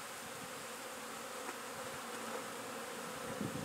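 Honey bees buzz steadily around an open hive during a beekeeping visit, a dense continuous drone filling the air with no voices.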